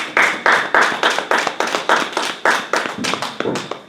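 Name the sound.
congregation applauding in church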